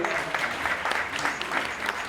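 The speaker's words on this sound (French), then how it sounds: "On peut applaudir s'il vous plaît" A crowd at a back-to-school event claps continuously, a brisk, even patter of applause from many hands, moderately loud throughout.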